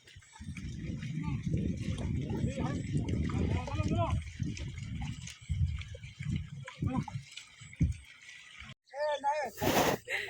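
Horses walking through farmland by rice paddies, hooves clip-clopping in an uneven rhythm close by, with people talking loudly over much of the sound.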